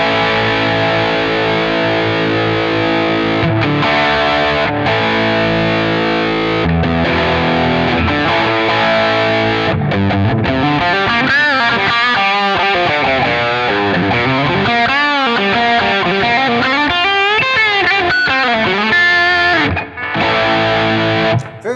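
A PRS SE 245 Standard electric guitar played through overdrive, with sustained distorted chords and then busier melodic runs and bends, loud and continuous, with no talking.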